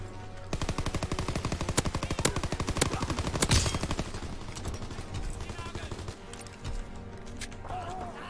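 Sustained automatic gunfire in a WW2 video game, rapid dense bursts with a heavy blast midway, loud and near, easing off toward the end with a voice briefly audible.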